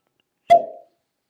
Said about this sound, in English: Nice cork pop there